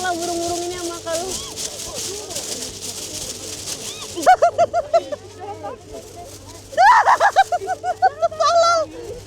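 Pigeons coo at Amanohashidate in Kyoto, close by, in short repeated soft phrases, while people talk over them throughout.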